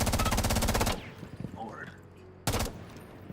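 Rapid automatic gunfire in a video game, with heavy recoil, bursts out loudly for about a second, goes quiet under low background sounds, then fires another short burst near the end.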